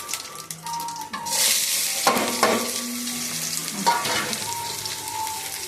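Cumin seeds hitting a hot pan, already holding chillies and curry leaves, burst into loud crackling sizzle, with stirring clinks and scrapes and a few more additions dropping in midway.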